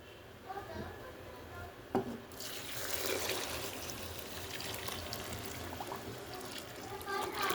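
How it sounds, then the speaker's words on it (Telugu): Water is poured into fried masoori rice in a pot for prawn biryani, a steady close pouring and bubbling rush after a few light knocks, with faint talking underneath. "ఇప్పుడు వాటర్ పోసేద్దాం."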